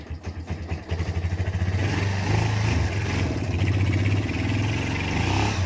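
A motorcycle engine runs on a ride to a garage, opening with a few sputtering pulses before settling into a steady, throbbing mid-pitched drone that ends abruptly.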